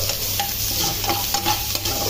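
Garlic and ginger sizzle in hot oil in a pan while being stirred, a continuous loud frying crackle with scraping stir strokes, close and without talk.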